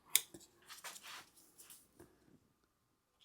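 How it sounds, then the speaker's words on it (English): Knife or blade slicing through tape along a square in a woodworking shop, a short scratchy cut followed by a few faint scraping strokes, close and quiet. "we can use a square to actually cut that tape away"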